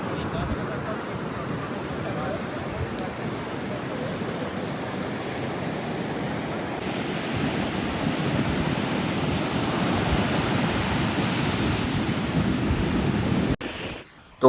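Sea waves wash continuously onto a seashore in Portugal, a broad steady surf roar that swells slightly later on, with a voice speaking over it.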